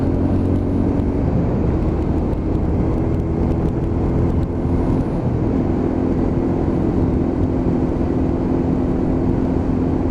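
A Lexmoto LXR motorcycle being ridden on urban roads and twisty bends, heard as a continuous engine drone mixed with wind rush. The level stays steady and close for the whole stretch, with no speech.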